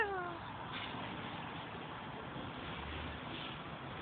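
A domestic cat meows with a few drawn-out, falling cries at the start, heard close over a steady background hiss, followed by quieter continuous ambient noise with no clear further calls.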